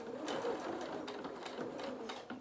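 A sewing machine runs in a steady, close whir, stitching fabric for a Luna Lapin Christmas toy body, a continuous mechanical hum with rapid needle ticks and no one speaking.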